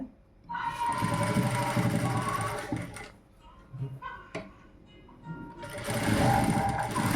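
A sewing machine stitches piping and lining fabric around a garment neckline, running in two loud bursts separated by a quieter pause with handling clicks.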